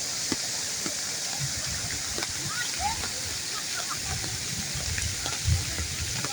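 Heavy rain falls steadily on a rural dirt road in the countryside, a constant broadband hiss with scattered splashes and the odd low thump, moderately loud throughout.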